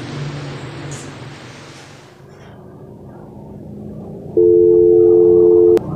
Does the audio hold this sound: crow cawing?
no